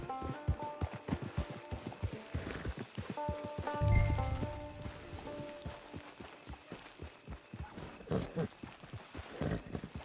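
A horse in Red Dead Redemption 2 Online walks into a camp, its hooves clip-clopping in an uneven, close rhythm with a soft thump partway through, fairly quiet and alone.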